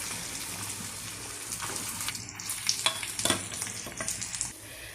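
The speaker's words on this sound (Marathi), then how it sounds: "आता यामध्ये आपण किसलेला आलू मिक्स करूया।" Grated potato stirred into spices with ajwain and salt in a hot pan, a close sizzle building into busy scraping and clattering stirs midway, no one speaking.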